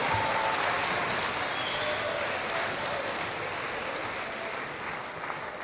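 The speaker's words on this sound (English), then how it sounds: "Give yourselves a big round of applause" A school audience applauds steadily at a declamation event, a dense wash of clapping hands that holds for several seconds and slowly eases.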